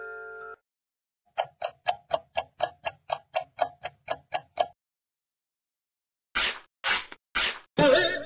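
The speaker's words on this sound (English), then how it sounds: "An alarm clock?" An alarm clock ticks in quick, even beats for about three seconds, close and clear against silence, followed by a few louder bursts of sound.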